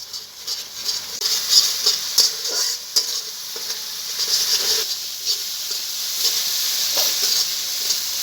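Ground spice masala frying in a pan with water just added, giving a steady broadband sizzle and hiss with occasional louder bursts as it bubbles and is stirred.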